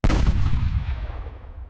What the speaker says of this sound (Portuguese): Houve disparos simulados de canhão.